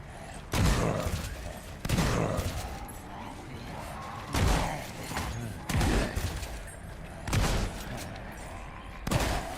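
Pistol shots from the Evil Awaits video game, fired in a handful of separate sharp bursts a second or two apart over a steady game background, with some talk.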